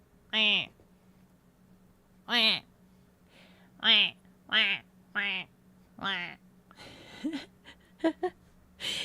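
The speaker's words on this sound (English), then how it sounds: "Have her blow the duck call." A series of loud, nasal duck quacks blown from a call, spaced irregularly, with a few shorter honks and faint background noise near the end.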